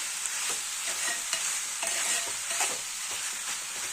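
Amaranth leaves deep frying in a pan give a continuous dense sizzle, close and steady, with soft scraping stir strokes recurring every half second or so and no talk.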